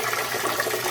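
A top-loading washing machine fills with water in a steady, loud, close rushing wash of liquid that runs without break.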